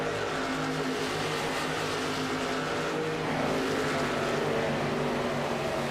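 Race cars in a VSpeed Contender Series event run close together drafting on the track before the race start, a steady, dense layered engine drone with slight pitch swells. The sound is loud and continuous, with no voices.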